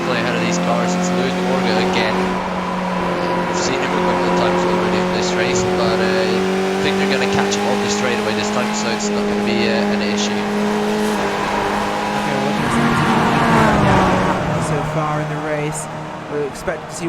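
Race cars circle the Lime Rock circuit in a sim-racing league, engines droning at a steady pitch that dips as they brake, with brief tire squeal, heard under continuous commentary.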